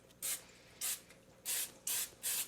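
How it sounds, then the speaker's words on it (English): Pam cooking spray is misted lightly into a baking pan meant for Cornish hens, coming as five short hissing bursts at fairly even intervals, close and clear with no talking. "I'm going to take my Pam here and just lightly spray inside this"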